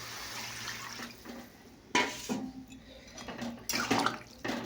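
Water poured from a tap or vessel into a pan of just-fried potatoes, a sudden splashing onset followed by uneven gushing and clattering against the pan, close by and moderately loud.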